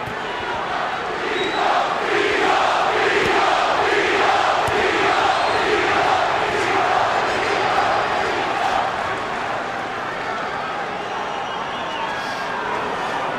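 Boxing arena crowd at the Hopkins vs. Trinidad fight roaring and chanting in rhythmic waves for Trinidad, a loud, sustained mass of voices with a fight commentator talking faintly beneath.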